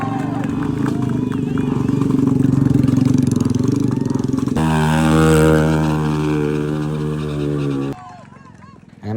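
Motorcycle engine at a closed-road bike stunt show, running loud and steady with a rising, sustained whine through the middle before cutting back sharply near the end.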